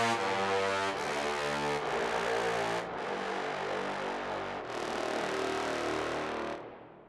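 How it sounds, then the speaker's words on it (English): Eight trombones, tenors, basses and contrabasses, from the Spitfire Monster Bones library, blaring raucous low sustained chords that shift several times, loud and alone, fading at the end. "And this is 8 trombones."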